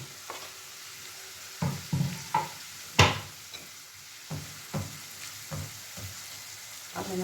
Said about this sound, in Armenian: հիմա կավելացնենք գազարը